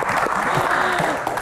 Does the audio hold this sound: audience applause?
yes